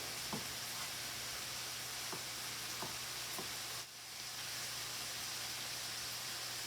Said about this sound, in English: the onions are cooking down pretty nicely